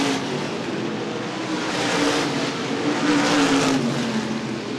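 Modified stock cars race around an oval at the 2013 ICAR Top Speed Fabrication Modifieds World Stock Car Festival 50, a dense, continuous engine roar with one engine's pitch swelling and fading as it passes.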